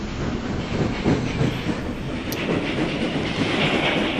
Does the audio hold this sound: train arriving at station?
yes